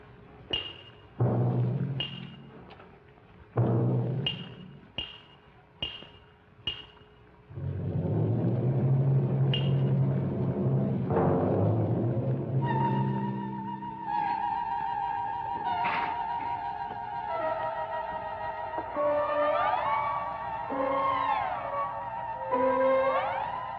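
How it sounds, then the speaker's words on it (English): Eerie orchestral music from Bartók's Music for Strings, Percussion and Celesta: sparse plucked and struck accents give way to a low rumbling string swell, then high sustained celesta tones drifting over it. "take these weird night sounds that come from Bartók's music for strings, percussion, and celesta"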